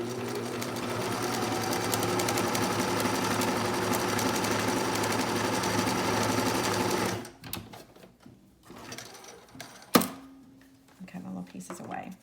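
A sewing machine stitches around a fabric face mask with a nose bridge and filter, a fast, even mechanical chatter running for about seven seconds up close, then stopping, followed by scattered handling bumps.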